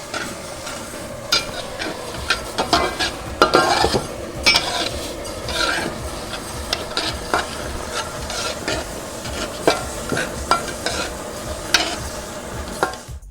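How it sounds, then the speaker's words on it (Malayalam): Lentils (parippu) being stirred and dry-roasted in a pan over low heat for a Kerala payasam, with steady scraping of a spoon against the pan and soft sizzling throughout, no talk. "അങ്ങനെ നമ്മൾ പരിപ്പ് ചൂടാക്കി വറുത്തെടുത്തു"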